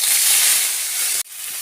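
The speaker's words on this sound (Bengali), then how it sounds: "তো এখন চলো নুন হলুদ দিয়ে মাছটা ভেজে নেব" Fish rubbed with salt and turmeric hits hot oil with a loud, steady hissing sizzle that cuts off abruptly, then continues more faintly.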